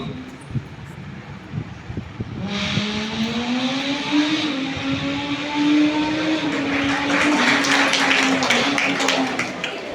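A voice imitates a speeding motorbike, a rising, droning engine-like hum held for several seconds with a sharp onset.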